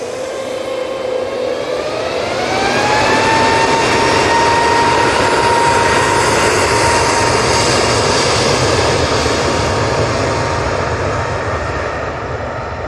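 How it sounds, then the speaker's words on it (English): Airbus A321neo jet departing for Heraklion on a foggy day, loud close engine roar with a rising whine that climbs after a couple of seconds and then holds steady, with no voices over it. "To Heraklion with that A321 Neo."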